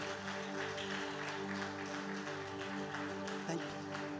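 A church audience welcomes a pastor with continuous clapping and applause, steady and fairly close throughout, with a faint sustained tone and occasional knocks underneath.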